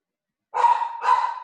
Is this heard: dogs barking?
yes